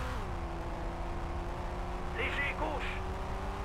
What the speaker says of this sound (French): Vous avez vu le petit bruit du pot d'échappement?